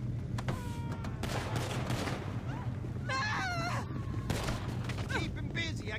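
Gunfire rattles in the video game GTA V, with rapid bursts of shots and blasts mixed with game sounds, heard alongside shouting voices throughout.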